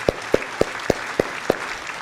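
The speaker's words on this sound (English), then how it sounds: "big round of applause" Six crisp, evenly spaced hand claps at a slow, steady pace, close and distinct over a quiet room background.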